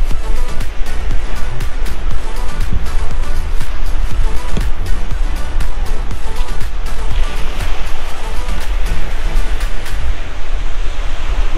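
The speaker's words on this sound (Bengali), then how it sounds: "প্যাংগং লেক এত হাওয়া যে পুরো সমুদ্রতে টার্ন করে গেছে" Strong wind whipping across Pangong Lake in Ladakh, driving waves that wash against the shore, heard as a loud, continuous roar of gusts and surf with buffeting rumble close to the microphone.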